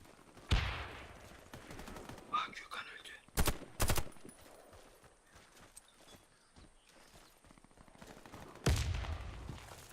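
Gunfire from weapons in the video game Warface, a few sharp bursts and single shots scattered across the clip at moderate level, with quiet player chatter in between.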